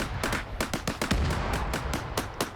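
Artillery fire in a PvP artillery-only video game, a run of roughly a dozen sharp booming shots at an uneven, quick pace, each with a short rumbling tail, loud and close.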